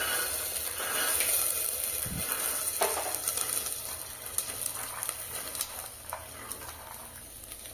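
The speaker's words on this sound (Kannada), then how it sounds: "5 ನಿಮಿಷ ಫ್ರೈ ಮಾಡ್ಕೊಳ್ತೀನಿ, ಜಸ್ಟ್ ಖಾಲಿ ಎಣ್ಣೆಯಲ್ಲಿ." Avarekalu field beans frying in plain oil over a low flame: a steady soft sizzle and hiss throughout, with occasional scraping stirs and clinks close by.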